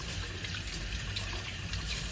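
Running tap water splashing over hands being wetted at a sink, an even, close hiss of flowing water with no talk over it.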